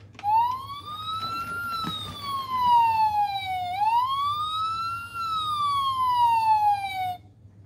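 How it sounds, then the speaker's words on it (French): A Barbie toy ambulance plays its electronic siren, a loud close wailing tone sweeping slowly up and down in two long cycles before cutting off. "je lui ai pris l'ambulance de Barbie"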